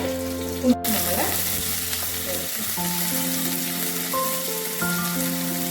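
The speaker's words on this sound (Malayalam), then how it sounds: "നമ്മള് കടുക് താളിച്ചു, ഉള്ളി ഇട്ടു, വറ്റൽമുളക് ഇട്ട്, കറിവേപ്പില ഇട്ടു" Mustard seeds, onion, dried red chillies and curry leaves sizzling in hot oil in a pan for a Kerala fish curry, a steady close crackle with faint stirring and no voices.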